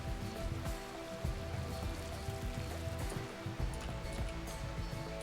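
Steady rain falling during a RimWorld game session, a dense even patter of drops with low rumbling game sounds and music mixed underneath, continuous throughout.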